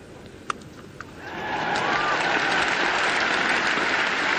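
Cricket crowd at a 1979 England v India Test match breaking into sustained applause after a shot, rising quickly and holding steady, with a couple of sharp claps before it swells.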